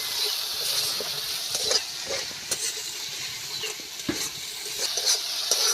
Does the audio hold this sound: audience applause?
no